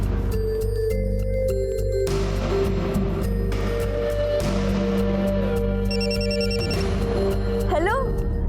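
A telephone rings with a repeating electronic ringtone in a TV crime drama scene, heard under steady background music and other tones for several seconds.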